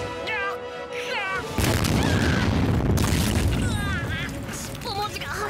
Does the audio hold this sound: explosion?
yes